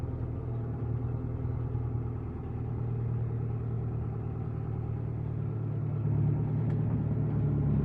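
A 2003 Fendt 411 Vario tractor with a four-cylinder turbo engine of about 110 to 118 horsepower and a front loader sits running, giving a steady low mechanical rumble with a constant hum that swells slightly near the end, with no talk.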